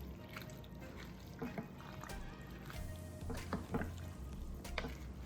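A spoon stirs a pot of chicken corn chowder with cayenne pepper sauce, giving quiet liquid sloshes and soft clinks over a faint simmer.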